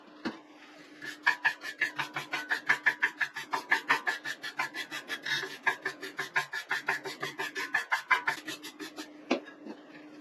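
A bike cassette being scrubbed clean with isopropyl alcohol, a steady rhythmic back-and-forth rasping of roughly two strokes per second, close and fairly loud, continuing for several seconds with no talk.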